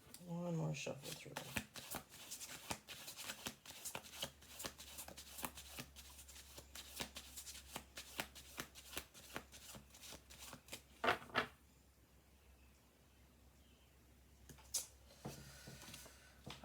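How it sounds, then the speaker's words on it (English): Tarot cards being riffled and shuffled repeatedly in quick crisp bursts, close up, with a short pause and a final shuffle near the end. "One more shuffle through."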